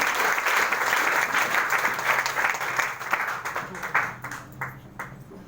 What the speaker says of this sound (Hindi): जोरदार ताली बजाना चाहिए दोस्तों